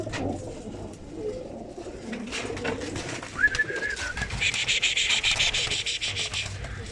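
Flying-breed pigeons cooing in a group, low soft coos over a steady chorus of birds, with a higher hissing, rubbing texture joining in the second half; no talk.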